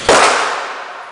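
A single loud, close shotgun blast is fired from about 15 yards. It has a sharp crack and a long ringing decay.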